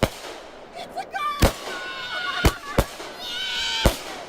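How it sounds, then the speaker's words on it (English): Fireworks bursting outdoors at a gender reveal, several sharp loud bangs at irregular intervals with crackling and whistling trails between them over a steady background hiss. "Now we know about this famous firework that caused the fire."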